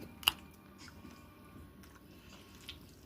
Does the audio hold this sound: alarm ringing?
no